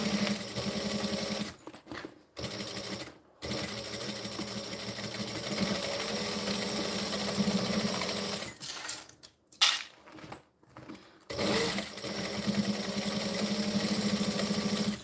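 A sewing machine stitching a fabric bag, running in a steady close mechanical whir that stops and restarts several times in short pauses.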